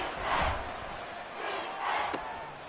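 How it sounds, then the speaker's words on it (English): At a professional football game between Washington and New Orleans, a stadium crowd roars steadily and swells in waves, a dense, distant-sounding wall of noise with a brief sharp knock near the end. "This crowd turning up the decibel level."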